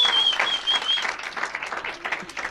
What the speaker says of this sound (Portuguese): Vamos dar uma salva de palmas pro Faco